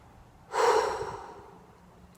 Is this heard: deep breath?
yes